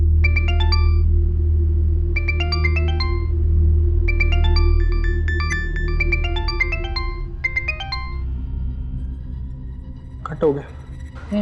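A phone's ringing tone plays in repeated bursts of bright electronic tones over a steady low hum, then stops, followed by a brief rustle near the end.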